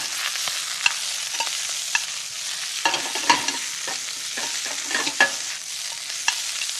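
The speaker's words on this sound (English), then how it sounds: "spinach really doesn't take any time at all to cook" Spinach cooking in a pan with moist heat, a steady sizzle under light stirring, scattered clicks and scrapes of a utensil close by, with no one talking.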